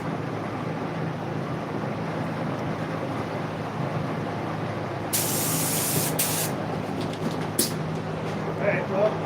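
A Harbor Freight spray gun spraying paint on a VW, short hissing bursts of air and paint breaking in partway through over a steady background hum, with people talking at times.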